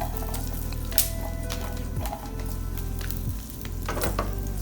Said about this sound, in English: I'm just going to add the cloves of garlic